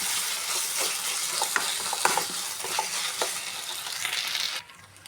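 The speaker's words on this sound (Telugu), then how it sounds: "ఆలు అండ్ క్యారెట్ వేసేసి ఒకసారి మంచిగా కలిపేసుకోవాలి" Mashed potato and carrot are stirred into a sizzling masala for dosa, a constant close frying hiss with scattered light clinks and scrapes of the spoon on the pan, which drops away near the end.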